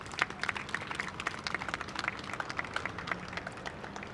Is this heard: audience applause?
yes